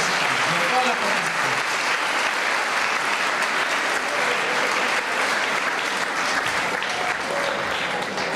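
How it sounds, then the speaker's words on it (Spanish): A large audience at an oratory contest gives the participants sustained applause, a dense, loud, unbroken wash of clapping with faint cheers and crowd murmur underneath. "quisiera también pedir un aplauso para todos y para todas las participantes"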